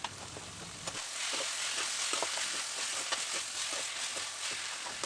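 Vallarai (centella) leaves sautéing with tamarind in a hot pan over high flame give a steady, close sizzle with faint stirring scrapes, starting with a brief quieter moment and then holding even throughout.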